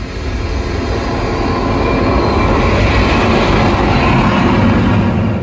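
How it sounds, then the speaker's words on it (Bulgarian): A jet engine roars as a loud, continuous, broadband rumble that holds steady for several seconds and swells slightly midway, with no voices over it. "до тътен на реактивен двигател"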